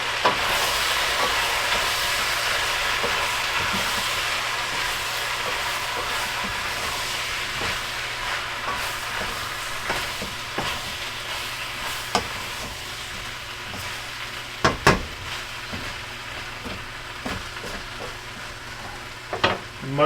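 Mushrooms sizzle in a hot pan in a home kitchen, a steady close hiss of frying broken by occasional sharp clicks and scrapes of stirring.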